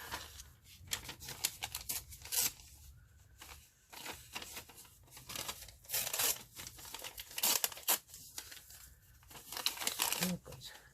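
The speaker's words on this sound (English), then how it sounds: "just going to tear down here like so, and maybe tear a piece off" Paper torn by hand into pieces for a collage, giving a run of crisp rips and crinkles in short irregular bursts, close and fairly quiet, with brief pauses between tears.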